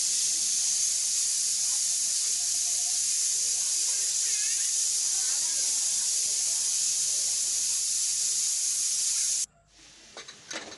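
After fifteen whistles, a pressure cooker holding boti curry hisses out its steam in a long, loud, continuous jet, then abruptly cuts off to near silence with a few faint clicks at the end.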